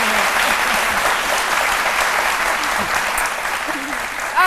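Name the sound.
audience applause for Méliane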